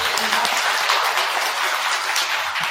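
An audience at a Buddhist temple dharma service claps warmly for the head monk, a steady, even burst of applause lasting a few seconds with a faint voice beneath.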